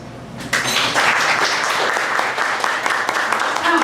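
An audience at a museum breakfast gathering bursts into applause, sustained clapping starting abruptly and holding steady for several seconds, loud and close.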